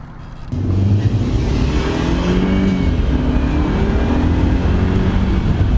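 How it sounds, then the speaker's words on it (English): A Mercedes-Benz C250 W204 turbo engine roars steadily after a sudden start, loud and near, with a faint high turbo whistle on lift-off drifting above the rumble. "when you lift off, you hear the little whistle."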